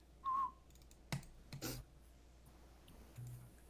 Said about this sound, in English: I only discovered about a year ago that I could whistle like that